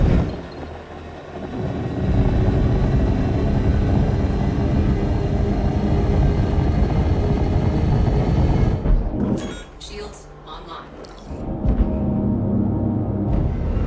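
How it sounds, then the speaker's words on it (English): The Andromeda spaceship engine in a space combat video game throttling up to a loud, sustained roaring drone, which then breaks into brief high-pitched bursts and dips before the roar returns. "Switching to nav mode, I slam the throttle forward, closing the distance in seconds."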